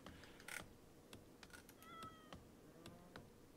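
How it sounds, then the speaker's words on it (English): A cat meows several times in the colony-building game RimWorld, short faint calls with a few clicks between them, heard over a quiet background. "Apparently we have a cat."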